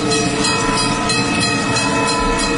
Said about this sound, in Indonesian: aku dapat mendengar dengan jelas suara laju kereta api